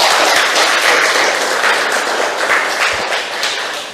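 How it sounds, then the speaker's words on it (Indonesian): A classroom of students clapping for a classmate after her answer, a dense wash of applause that holds steady and then fades slightly toward the end. "Tepuk tangan kepada Sesa."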